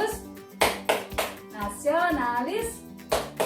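A fifth-grade class does the tepuk PPK clapping chant, with sharp, evenly spaced hand claps punctuating chanted voices at close range.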